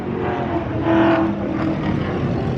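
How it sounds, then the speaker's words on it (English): A loud Ford Mustang passes on a town street, its engine roar rising to a peak near the middle and then easing off into a steady rumble, with no talking. "Seems to be all the loud cars in town are Mustangs."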